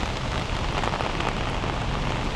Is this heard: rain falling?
yes